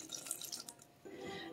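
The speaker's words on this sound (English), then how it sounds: "we're going to pour this in here." Cream of coconut is poured and rinsed into a dish in a home kitchen, giving faint trickling and dripping liquid sounds over a soft background.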